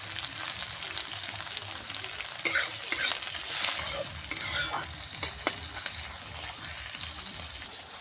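Chopped onion and green chili frying in oil in a pan for rajma, giving a dense, loud sizzle throughout with scattered spoon scrapes and taps close up.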